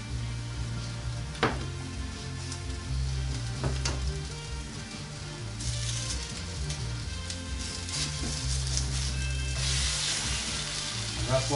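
Oatmeal pancakes fry in a pan with a steady, close sizzle and crackle throughout, plus occasional clinks and scrapes of a utensil and faint kitchen movement.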